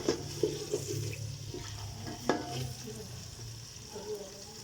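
Potatoes and chicken frying together in a pan for a desi chicken macaroni dish give off a steady low sizzle, broken by a few sharper clinks and scrapes from stirring.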